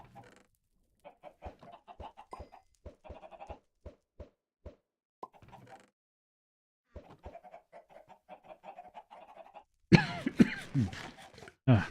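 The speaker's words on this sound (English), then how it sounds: "Sorry for the cough there." A person coughs in a short, harsh, noisy burst near the end, following a run of sparse, soft clicking and clucking game sounds from a chicken-themed setup.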